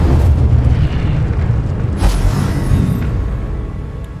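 A fire spell erupts in Hogwarts Legacy, a loud deep boom and rushing burst that swells then trails off into a low rumble, with a second softer whoosh partway through.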